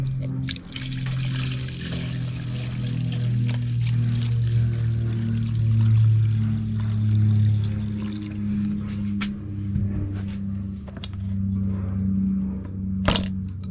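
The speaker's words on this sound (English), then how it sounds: "We'll put about 800 ml of petrol in it." Petrol pours steadily into a fuel jug for a Chrysler outboard motor's fuel mix, a continuous close liquid gurgle and trickle lasting several seconds, with no talking.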